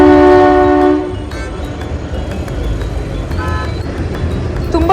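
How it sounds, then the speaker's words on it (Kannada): A small toy train sounds its horn in a loud sustained blast, then rumbles and clatters past close by with a steady rolling noise. "ತುಂಬ ಚಿಕ್ಕ ಟ್ರೈನ್ ಇದು, ಟಾಯ್ ಟ್ರೈನ್ ಅಂತ ಹೇಳ್ತಾರೆ."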